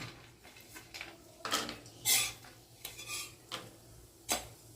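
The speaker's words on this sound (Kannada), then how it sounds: "ಬಾದಾಮಿ ಹಾಕ್ಕೊಂಡು ಒಂದೆರಡು ಸೆಕೆಂಡಿಗೆ ಹಾಗೆ ಗೋಡಂಬಿನ ಸತ ಹಾಕ್ಕೊಳ್ತೀನಿ" Almonds go into ghee in a metal pan, and a spoon stirs and scrapes them with scattered clinks and knocks against the metal under a faint background hiss, close and fairly quiet.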